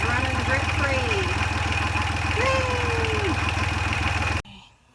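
Boat engine idling steadily after a raw water pump repair, a close, even mechanical chug with a constant low hum that cuts off abruptly near the end.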